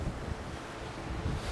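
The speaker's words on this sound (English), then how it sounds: "It's kind of windy" Wind in Iceland buffets the microphone in low, gusty rumbles, faint overall but pushing in short, uneven bursts over a brief moment.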